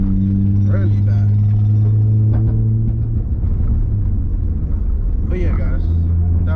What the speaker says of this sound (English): I'm just gonna let y'all listen to the car now and listen to how it sounds.